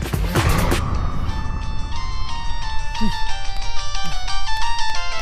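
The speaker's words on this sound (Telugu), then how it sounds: "ఏ వరుణ్, నీకు ఫోన్ అర్జెంట్." A phone ringtone plays a bright, repeating electronic melody, fairly loud, while people talk over it near the start.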